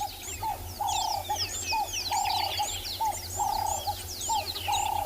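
Small grey-headed sparrows calling at sunrise in the Kalahari bush, a continuous mix of high chirps and twitters with repeated soft, lower whistled notes, steady and fairly close with no voices.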